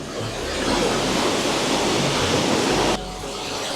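Kaval Waterfall in Hakkari roars as a steady, dense, loud rush of falling water, heard close up with no speech. The roar drops slightly in level near the end.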